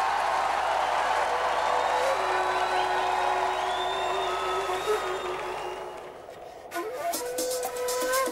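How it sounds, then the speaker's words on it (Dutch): A television studio audience applauds and cheers for a Dutch band on the 1999 Veronica show The Final Countdown, a loud, sustained wash of clapping that fades as music begins. "Dames en heren, geef ze een geweldig applaus."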